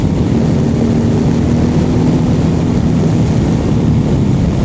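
A 2023 Ducati Multistrada V2 motorcycle cruises in sixth gear, a loud, steady engine drone mixed with heavy wind roar that holds unchanged from start to finish, with no talking.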